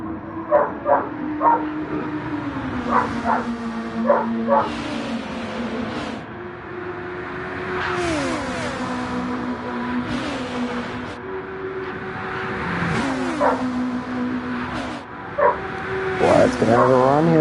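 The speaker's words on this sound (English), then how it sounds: "my dog's just fucking howling in the background and barking" A dog howls and barks in the background, long wavering howls broken by short yips and whimpers, repeating throughout, with a faint motor-racing engine drone underneath.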